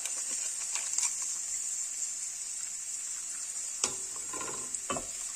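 Egg and bread upma sautéing in a pan, a steady close sizzle with soft stirring scrapes and a couple of sharper clinks of the spoon toward the end.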